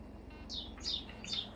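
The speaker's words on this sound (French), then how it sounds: "On entend des oiseaux." Small birds chirp in Battlefield 2042 gameplay, three short high tweets spaced evenly over a low ambient game rumble, faint and fairly distant.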